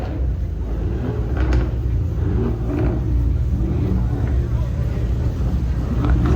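Deep V10 supercar engine rumbling steadily near a New York charity supercar gathering, a continuous low growl with faint swells, while people talk over it.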